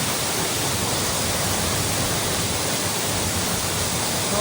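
A large waterfall roaring in a dense, unbroken wash of loud rushing water that stays constant throughout.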